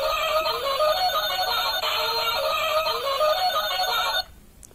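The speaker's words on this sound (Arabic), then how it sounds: "يبقى التليفون فيه اربع نغمات" Toy telephone playing a bright electronic ringtone melody, loud and steady for about four seconds before cutting off abruptly into quiet room noise.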